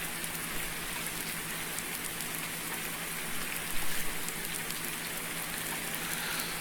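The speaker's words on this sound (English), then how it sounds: "There does seem an awful lot of rain on this map." Steady rain falls in the farming game Farming Simulator 19, a constant hissing patter with a low hum underneath and no voices.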